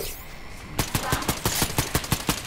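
Rapid gunfire in a first-person shooter video game cuts in after a quieter opening and continues as a loud, steady, automatic burst of closely spaced shots.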